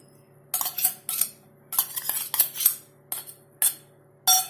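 Deep-fried onions are stirred into a red chicken curry marinade in a bowl, with close, irregular bursts of wet scraping and utensil clinks separated by short quiet gaps.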